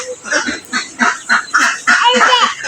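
Ducks with their ducklings in a quiet village setting give a run of honking quacks and calls in quick succession, close and fairly loud.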